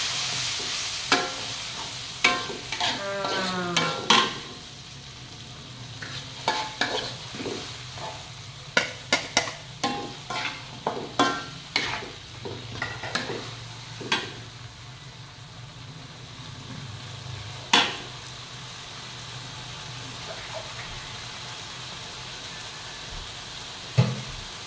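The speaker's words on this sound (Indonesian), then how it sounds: "Nah ini kita terus buat sambalnya." Sambal stir-fried in a pan with plenty of onions and chili: a steady sizzle and frying hiss runs throughout, broken by repeated scraping and stirring clatters of a utensil against the pan, with no talking.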